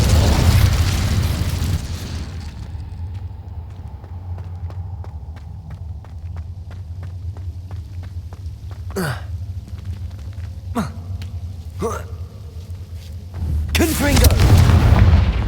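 A fiery Incendio spell in a video game bursts with a loud rushing roar, fades into a low rumbling hum broken by several sharp cracks, then flares loudly again at the end.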